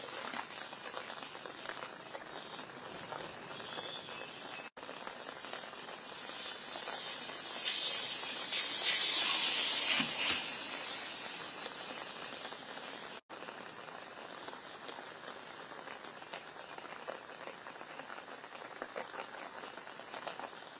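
Heavy monsoon downpour in Mumbai, a steady broadband hiss of rain that swells louder midway and then settles back to an even roar.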